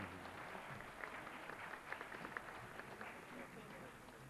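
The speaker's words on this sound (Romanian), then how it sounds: "Mai mari aplauze, doamnă!" Applause rings out at a festival award ceremony, a steady patter of many hands clapping in a hall, fairly dense and even, heard at some distance.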